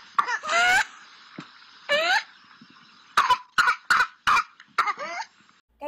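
A child with whooping cough (pertussis) coughs in repeated fits, short harsh bursts in quick series separated by pauses, with wheezy high-pitched intakes of breath between attacks, close and loud.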